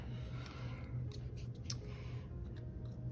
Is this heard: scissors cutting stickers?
yes